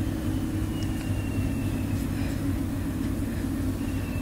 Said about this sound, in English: So I think someone is prepping the train, ready to go.